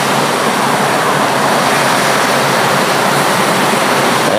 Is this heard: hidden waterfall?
yes